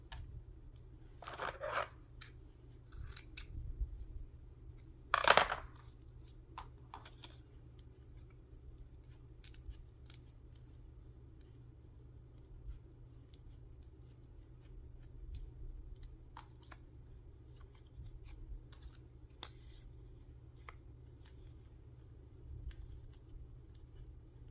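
Scissors snipping fabric scraps and cheesecloth for embellishment clusters, a few sharp cuts early on with one loud snip near the middle, then sparse quieter clicks over a low background hum.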